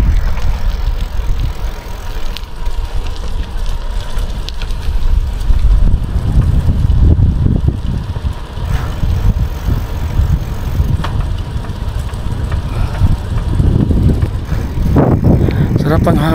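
Steady cool northeast monsoon (amihan) wind rumbles and buffets across the microphone, with low gusty noise rising and falling throughout and a faint engine-like hum beneath.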